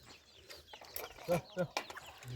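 Chickens cluck softly nearby in a few short bursts, with faint background voices.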